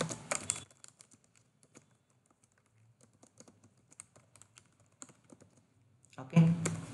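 Bursts of typing on a computer keyboard, quick light key clicks in irregular runs separated by brief pauses, close and fairly quiet, ending with a louder thump.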